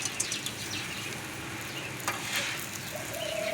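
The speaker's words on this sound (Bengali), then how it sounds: "ভেজে রাখা উচ্ছেটা দিয়ে দিচ্ছি" Previously fried bitter gourd goes into a pan of spice paste, which keeps up a steady, close, bright sizzle with a few soft stirring clicks and scrapes over about three seconds; no one speaks.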